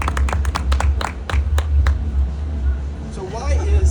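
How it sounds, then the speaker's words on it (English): Audience applause at a decriminalize nature event at a Georgia market, a burst of sharp claps in the first two seconds fading into room murmur and a low hum, with talk rising near the end. "everybody give a round of applause for Chloe West and Melania Armenta"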